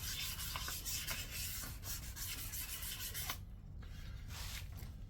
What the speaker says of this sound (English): just by giving it a tiny little rub with the sandpaper